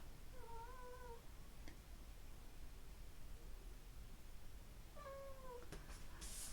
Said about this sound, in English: That's my kitty cat